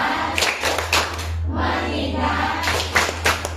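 A secondary school class claps together in a short rhythmic focus pattern, bursts of group hand claps separated by a brief pause, loud and close, with no clear talk over them.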